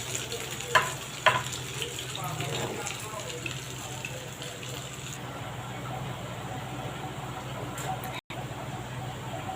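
Steady crackling sizzle of fritters frying in hot oil, continuous and close, with a couple of soft clicks early on.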